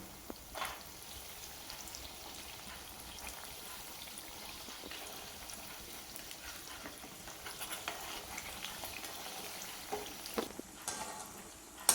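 Chicken spring rolls deep frying in oil over a medium flame, a soft steady sizzle and crackle with occasional louder pops, faint and close, with no talk.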